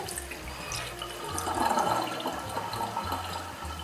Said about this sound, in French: Allez, on enlève cette eau